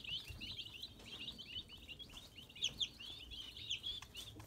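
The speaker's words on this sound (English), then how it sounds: "4 turkeys, 4 guineas, and 12 layers. 8 poults and 4 straight run." Turkey poults, guinea fowl and laying hens keep up a continuous high peeping and chirping chatter, faint and close in a quiet coop with no talk.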